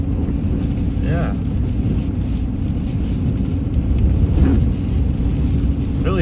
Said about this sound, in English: Really hard to show any of this weather, it seems sometimes on here, but it's pretty windy.